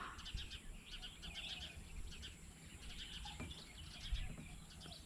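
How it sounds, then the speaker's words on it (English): Birds chirp and sing around a rural village in northern Thailand just after rain, with repeated bright calls over a quiet, faint background and no talking. "So you have all the birds."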